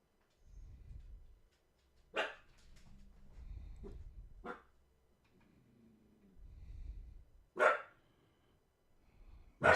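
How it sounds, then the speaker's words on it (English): A dog barks in sharp, isolated bursts, four loud barks spaced a couple of seconds apart, with low snorting and rumbling noises between them, nearby in an indoor room. "This dog, oh goodness."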